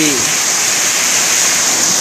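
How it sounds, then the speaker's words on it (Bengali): A dense, steady hiss of heavy rain pouring down, loud and unbroken throughout. "এত বৃষ্টি হচ্ছে কি হারে বৃষ্টি হচ্ছে"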